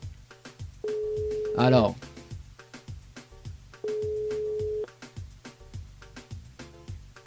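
Two long, steady telephone tones ring through a radio station switchboard, about a second each with a gap between, over background music, and a brief voice speaks near the first tone.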